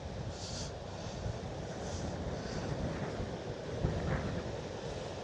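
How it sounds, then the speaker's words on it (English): Wind blows steadily across the coast at Ponta Delgada on São Miguel in the Azores, a faint broad rushing with soft gusts and buffeting, no talk. "I think it's from the wind here, it's still windy"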